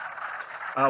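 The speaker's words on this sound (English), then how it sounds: "that noise is being made by wood frogs" Wood frogs call in a swamp, a dense outdoor chorus of clucking croaks heard moderately loud, with a louder nearby croak at the end.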